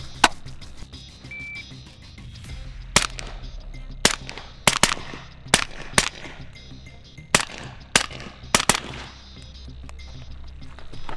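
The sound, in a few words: rifle shots, two per target, with 4-power optic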